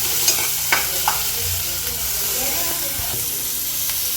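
Paneer half-frying in a pan gives off a steady, close sizzling hiss, with a few sharp clicks of stirring early on.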